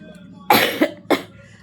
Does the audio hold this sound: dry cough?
yes